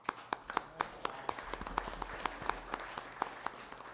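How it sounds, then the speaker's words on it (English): Sparse applause from a small audience at a county board meeting, a handful of distinct, irregular hand claps spread over several seconds, moderately close and light. "So I'll give you a round of applause as well"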